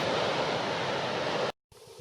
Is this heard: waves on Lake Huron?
yes